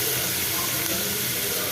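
Onion, tomato and curry leaves sautéing in a pan give a dense, steady hiss and sizzle, close and continuous for a short stretch.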